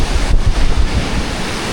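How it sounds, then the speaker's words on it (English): Meltwater river in Wyoming's Shoshone National Forest rushes and gushes in a loud, steady roar, heard close and continuous with some wind buffeting. "The water is just melting and gushing and going through."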